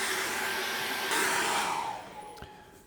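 A hair dryer blows steadily up close over a layer of acrylic paint on a misty forest painting, then its roar drops and fades as it is switched off.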